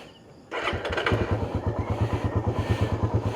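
A motorcycle engine fires up abruptly after a quiet moment and settles into a close, steady idle with rhythmic thumping pulses as it warms up.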